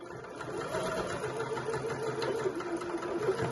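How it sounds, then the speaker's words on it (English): A sewing machine runs steadily, stitching a seam very close to the edge of a fabric scrunchie, with a continuous close-up whirring motor hum. "just sewing really, really close to the edge"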